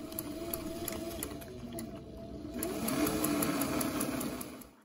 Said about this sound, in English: Then I will sew all of the shoulder seams separately